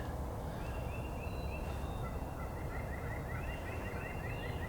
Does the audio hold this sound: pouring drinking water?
no